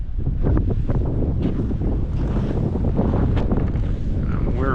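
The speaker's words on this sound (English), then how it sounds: "See, it's kind of windy." Wind buffets and rumbles against the microphone in continuous gusts outdoors in North Dakota in December, loud and close, with no one speaking.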